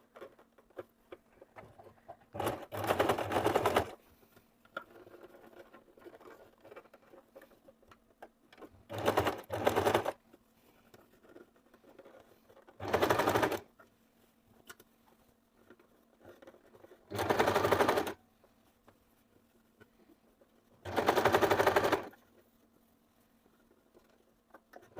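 A sewing machine stitches along the edge of a bra mockup in five short, loud bursts of rapid whirring, separated by quiet pauses.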